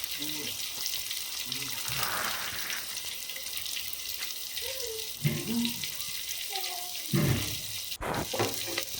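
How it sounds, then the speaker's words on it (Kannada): Water poured into a pan of oil-fried ridge gourd for a North Karnataka-style masala curry, a close splash and trickle with a hissing wash over the pan, a few brief bursts rising above the steady noise. "ಇವಾಗ ಇದಕ್ಕೆ ನೀರು ಸೇರಿಸ್ತಾ ಇದ್ದೀನಿ"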